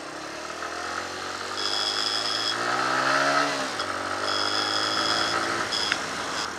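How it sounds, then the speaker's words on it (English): A motorcycle engine runs steadily with a close, droning idle. Its pitch rises briefly partway through, while high whining tones come and go above the engine. "I'm going to press my start button while my bike's already started."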